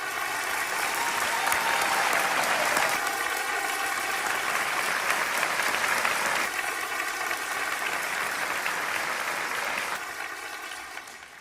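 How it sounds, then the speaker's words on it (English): A crowd at the Cleveland mayor's State of the City address claps for first responders, with sustained loud applause that swells in waves, then tapers off near the end. "Let's give our first responders a round of applause."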